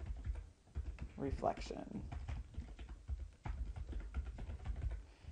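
Quick clicks of typing on a computer keyboard, soft and close, scattered under someone talking.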